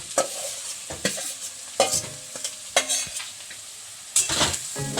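Young jackfruit pieces stirred into ginger and garlic already frying in a pan: repeated scraping and stirring strokes over a steady close sizzle, with occasional metallic clinks of utensil on pan and no talking.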